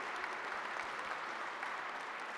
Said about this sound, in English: please do join me applauding this panel for the excellent